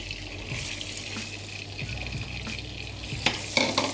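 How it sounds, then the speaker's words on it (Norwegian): Chopped onion poured into melted butter in a pan, frying with a steady close sizzle and hiss, stirring scrapes and a few clatters toward the end. "Når smør ser sånn slik ut, så heller du oppi løk."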